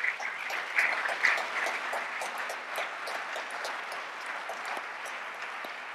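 Audience applause at a civil rights conversation event, a steady wash of clapping from a crowd that swells early and then settles into a sustained, even patter with no talk over it.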